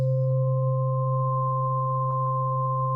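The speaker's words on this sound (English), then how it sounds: "we got our really nice sine wave, but as I start adding in other sounds, it starts changing the waveform a little bit" A pure, steady sine wave tone synthesized on an MPC Live holds constant and unbroken at moderate loudness, with a faint added overtone and a slight blip near the end.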